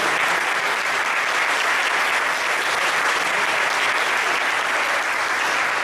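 A conference audience in Capilla del Monte claps steadily and loudly for about six seconds, a dense, even wash of applause with no voices standing out.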